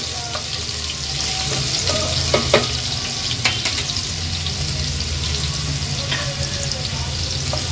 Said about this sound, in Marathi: लसूण थोडा तेलावर परतून घ्यायचा आहे